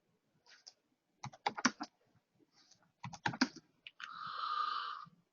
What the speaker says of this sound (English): if you guys watch how I type it out